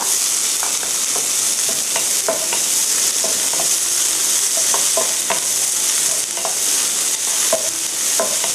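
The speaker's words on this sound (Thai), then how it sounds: "เอากระทะมาตั้งไฟใส่น้ำมันนิดนึง หน่อยแล้วก็ใส่หอมใหญ่ลงไปผัดค่ะ" Large onion sizzles loudly and steadily in a hot wok with a little oil, with occasional scraping stirs of a utensil throughout.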